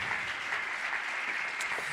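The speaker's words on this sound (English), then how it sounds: "Can we get a round of applause for Hakeem?" Applause from an audience at a wellness workshop event, a steady, dense wash of many hands clapping together at moderate volume, continuous for two seconds without a pause.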